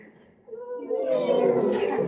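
A person imitating a kitten, a faint start rising into a sustained, roaring mewl that swells and holds for over a second.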